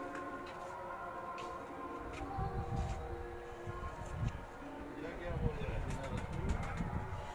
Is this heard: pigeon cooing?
yes